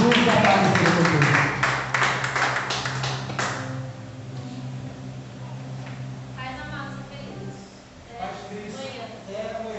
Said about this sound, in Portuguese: Aplauda o nome do Senhor Jesus e a paz do Senhor Jesus